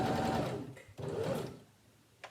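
A sewing machine runs in bursts while stitching a fabric mask, with a steady whir that stops briefly mid-seam and resumes, then fades out; close and fairly loud, with no talking.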